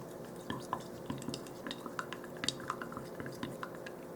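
White craft paint is stirred into darker paint with soft, wet clicks and light scraping taps at an uneven rhythm, close and quiet, with no talking.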